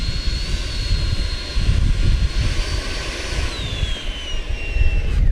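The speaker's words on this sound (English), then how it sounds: "Oh, look at that nose high now, Steve. Oh yeah, oh yeah, I can bring it in nice now" An FMS Rafale 80mm EDF RC jet flies overhead with a steady ducted-fan whine over a broad rushing roar, the pitch sliding lower as it passes and recedes at a grass field.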